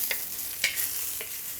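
Prawn heads and ginger fry in hot oil with a continuous close sizzle, punctuated by a few quick stirring scrapes.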